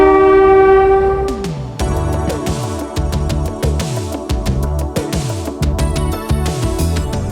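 A cogwheel train climbs a steep mountain line in France, opening with a sustained horn blast, then loud rhythmic mechanical clanking and grinding beats repeating close by.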